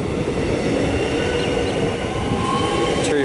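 A Melbourne suburban electric train pulls out of East Richmond station, a loud continuous rumble of wheels and motors with faint squeals and clicks, heard close from the platform.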